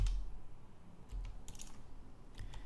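Keys clatter on a computer keyboard in short bursts of taps while switching between browser tabs, close and fairly quiet with no talking.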